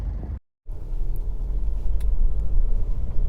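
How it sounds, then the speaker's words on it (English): A Honda CR-V 2.2 i-DTEC automatic diesel, 4WD, idles with a steady low rumble after a brief cut, close and continuous with no talk. "engine's running"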